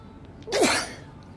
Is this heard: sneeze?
yes